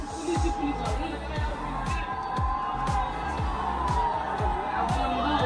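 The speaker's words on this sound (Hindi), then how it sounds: "ये देखो भाई साहब क्या भीड़ लगाई है।" A crowd gathered at a YouTuber meetup in Jaipur on the first day of a film show, with a steady murmur of many voices and occasional shouts, heard close around a nearby talker.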